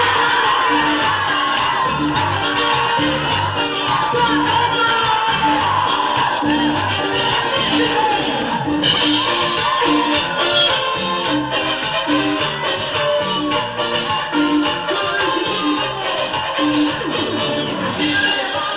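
A band plays loud, dense music with a steady, pulsing low rhythm throughout, and crowd noise may run under it.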